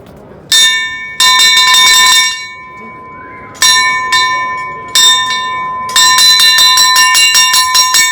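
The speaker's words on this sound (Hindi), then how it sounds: "इस वीडियो के आगाज़ में भी आप देखते हैं घंटा बजता है।" A railway station bell on a British-installed line in Pakistan or India is struck by hand in bursts of rapid ringing strokes, loud and close, with brief pauses between clusters and a faster run at the end.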